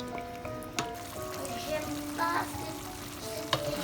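Chicken curry ingredients stirred in a pan, a steady sizzle with faint scraping and a few sharp utensil clicks, fairly close, while a tonal background hum runs beneath.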